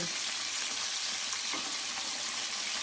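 Fish pieces, katla for a doi katla dish, fry in hot oil with a steady broadband sizzle, close and even throughout a short stretch with no talk.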